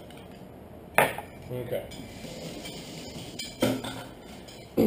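Eggs for huevos rancheros are broken up in a bowl with cutlery, giving a few sharp clinks and taps against the dish between quieter stirring, while a person speaks briefly.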